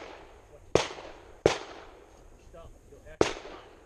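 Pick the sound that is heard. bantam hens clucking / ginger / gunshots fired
gunshots fired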